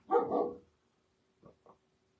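A dog gives one loud, close bark followed by two faint, short yips, with quiet in between and no talking.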